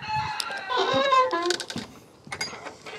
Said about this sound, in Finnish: täällä kukot kiekuu vaan